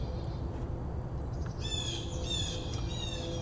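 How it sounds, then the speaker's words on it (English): Birds squawk outdoors on a bright day, a few harsh calls rising from the middle of the clip, fairly distant over a steady low background hiss. "the birds are going crazy"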